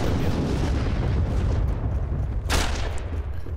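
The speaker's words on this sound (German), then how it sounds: "Da hat man eben gerade den Schuss gesehen." A loud, rumbling burst of gunfire in the online shooter Heroes & Generals over a dense, noisy background, with a sharp crack near the end.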